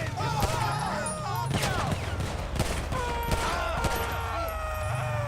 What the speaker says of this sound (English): if you right click, you can get the gun that he gave you and shoot these